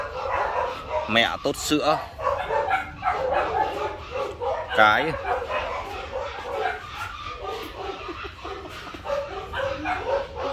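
Three newborn short-tailed puppies whimper and yip in thin, high, overlapping cries near their mother, continuous and close, while someone talks over them throughout.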